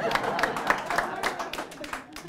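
Audience at a historic park lecture about Buffalo Bill clapping in scattered, uneven applause, fairly close, with someone talking over it.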